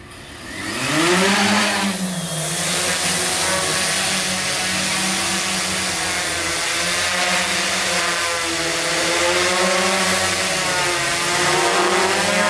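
A large ZD850 hexacopter drone lifts off and hovers, its rotors building to a loud, steady buzzing drone that wavers slightly in pitch as it holds position, with no talking.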